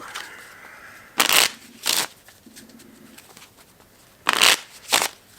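A deck of playing cards shuffled in four quick riffle bursts, two close together near the start and two more near the end, each a crisp fluttering rattle over a quiet room.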